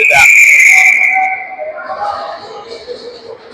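A sharp referee whistle cuts through at a youth ice hockey game, loud and close at the start, then fades into rink noise and crowd murmur as a commentator talks.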